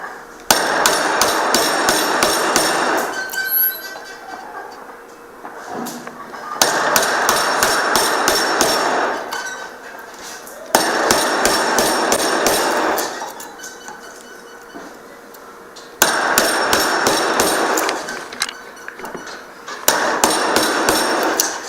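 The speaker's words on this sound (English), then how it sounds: "Then I can start chiseling out." Hammer blows strike a chisel cutting a wooden mortise for a mortise and tenon joint, coming in rapid close bursts of sharp, evenly spaced taps separated by short pauses.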